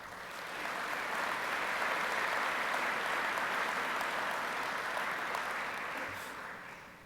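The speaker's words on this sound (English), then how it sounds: "I want you to give yourselves for having come and attended this convention a round of applause" Steady, dense audience applause filling a convention hall during a track and field coaches' opening session, swelling in quickly, holding even for several seconds, then tapering off near the end.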